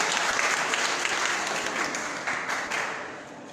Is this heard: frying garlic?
no